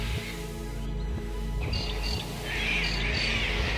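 Outdoor chorus of birds by the Murray River in Australia: harsh squawks of cockatoos and crows mixed with thin chirps and tweets of swallows and small songbirds, fairly steady over a low background hum.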